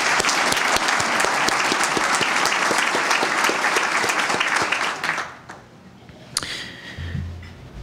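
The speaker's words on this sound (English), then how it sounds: "A round of applause for those folks" Sustained audience applause at a college presidents' breakfast in Chicagoland, dense steady clapping for about five seconds before fading out into a quiet room with a few faint stray sounds.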